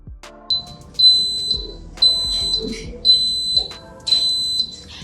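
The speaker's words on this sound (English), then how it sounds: "as you can hear, guys, the timer has gone off" An Instant Pot timer beeps in repeated high-pitched bursts, roughly one per second, loud and close, with faint background noise between.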